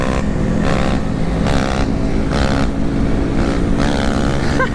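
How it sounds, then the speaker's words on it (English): A motorcycle doing a wheelie on a street roars loud and close, its engine revving up in repeated rising surges with no pause between them. "so I figured I should do a wheelie for him"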